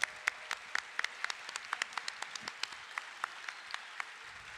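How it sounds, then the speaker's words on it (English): An audience at an Axie Origin esports grand final applauds the Sky Mavis team, with steady distinct claps ringing out over a quiet background. "Round of applause to the Sky Mavis team."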